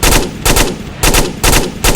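Tracer rounds fired from a gun in the Onward VR shooter come as loud, sharp bursts of rapid automatic fire, four quick volleys with brief gaps between them.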